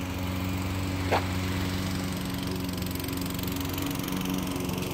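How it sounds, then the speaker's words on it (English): A lawn mower engine drones steadily nearby throughout, with a brief whine rising over it partway through. "Lawnmower."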